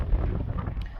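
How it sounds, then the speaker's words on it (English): Strong wind buffets the microphone outdoors in rugged hunting country, a steady, loud, rumbling roar with no pauses across the brief moment. "It's so windy still."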